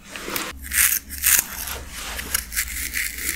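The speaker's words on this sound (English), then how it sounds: "let's get to the scratching." Fingers scratch across a freshly unbraided scalp in close, crisp bursts of rough rubbing, several rhythmic passes with brief pauses, heard alone without talk.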